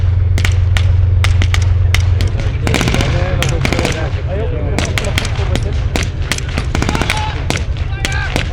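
Rapid bursts of infantry small-arms fire ring out in repeated volleys during a British Army demonstration at Tank Fest 2024, sharp cracks echoing over a low engine rumble, with a voice narrating over the shooting.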